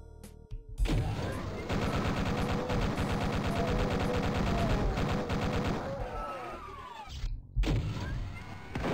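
Chaingunners firing in Doom II on the Fragport map Ironclad: a long, dense stretch of rapid machine-gun fire that lasts several seconds, loud and continuous, with other game noise around it.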